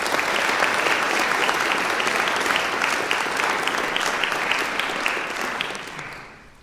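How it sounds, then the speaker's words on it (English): A commencement-ceremony audience claps steadily for several seconds in a dense, loud wash of hand claps, thinning and fading out at the end. "Let's please applaud Dr."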